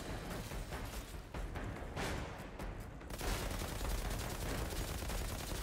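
Sustained rapid gunfire from a deployed turret in the Outriders shooter game, a dense continuous fusillade that swells louder after a brief dip partway through, with no talking.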